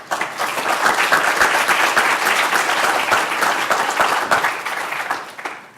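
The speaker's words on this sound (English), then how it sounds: "If we could give another round of applause for Ms." A keynote speaker is welcomed at an accessibility summit with sustained audience applause, a dense wash of many hands clapping at steady loudness for several seconds before easing slightly at the end.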